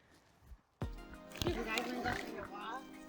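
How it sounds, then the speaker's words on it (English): Rescued potbelly pigs grunting and oinking in a lively series of snorts, close by, with a person talking over them. "these are rescued potbelly pigs"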